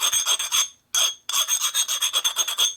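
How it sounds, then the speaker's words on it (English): A flat file rasps across a metal motorcycle part of a Harley 650 single Sportster engine in quick, close strokes, one short burst, a pause, then a rapid run of about a dozen rough strokes. "So I'm using a flat file and a round hole. As long as you keep the file moving pretty quickly, it doesn't dig in."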